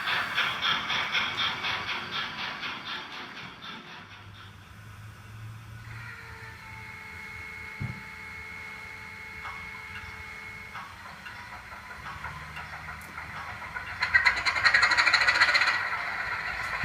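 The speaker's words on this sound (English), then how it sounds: "Some are factory fitted with the real sound recorded from actual locomotives." A model train runs with mechanical chuffing and rail clatter from a sound unit recorded from real locomotives, a steam hiss and whistle-like tones rising near the end, fairly loud and steady.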